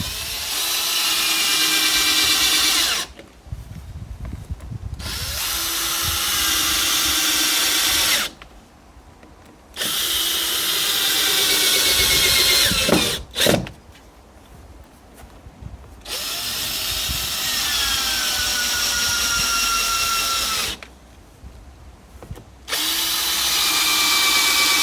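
Cordless power drill driving fixings into a timber batten on a gazebo frame, loud whirring bursts of several seconds each, broken by short pauses and a sharp clunk, up close with no talking.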